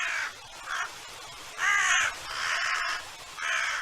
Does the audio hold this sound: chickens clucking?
no